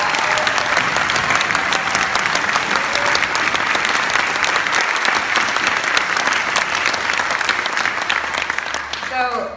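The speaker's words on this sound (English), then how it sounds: "can we just give one last round of applause for Ms." Sustained audience applause at a school orchestra concert, a dense steady wash of many hands clapping that fills the room for the whole stretch and fades slightly at the end.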